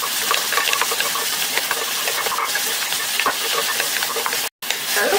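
Ground meat stir-fries in a pan with onion, garlic and celery for an Italian meat sauce, a steady loud sizzle with scraping and stirring clicks and a brief break near the end.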